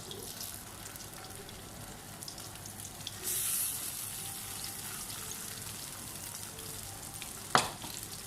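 Yogurt-marinated chicken fries in a pan with a steady, even sizzle throughout, rising briefly in the middle and broken by a single sharp clink near the end; no one speaks.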